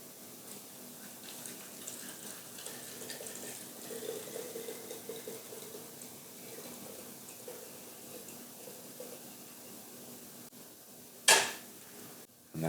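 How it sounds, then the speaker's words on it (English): Warm copper-coloured Indian tea trickles through a strainer into a jar, a soft, faint liquid pour that runs steadily and ends with a sudden sharp clink of glass. "We're going to go ahead and pour this through our strainer into a nice jar."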